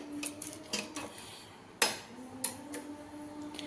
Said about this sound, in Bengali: আমি এটা দিয়েই নাড়বো আস্তে আস্তে